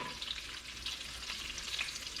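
Flounder fillets sizzling and crackling in a hot pan, a steady close hiss with small popping bursts, no voices.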